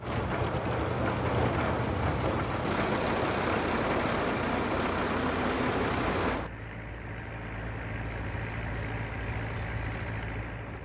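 A farm tractor engine running with a dense, rough low rumble that holds steady, then abruptly drops to a quieter, duller idle partway through.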